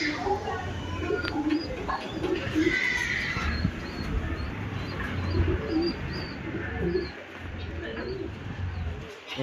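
Rekhdar pigeon pairs coo softly in a loft, with repeated low cooing calls, while someone talks over them through most of the clip.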